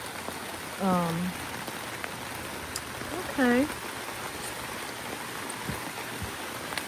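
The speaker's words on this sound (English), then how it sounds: "Oh, it's raining harder now, y'all." Rain falling steadily on a vegetable garden with carrots and kohlrabi, a constant soft hiss close by, with two brief bird-like chirps and a person speaking briefly.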